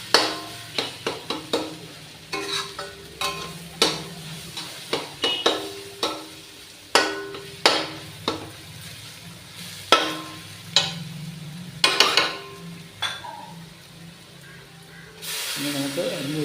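Garam masala roasting in a pan for chicken masala, a spoon scraping and stirring in regular strokes over a soft hiss, close and moderately loud.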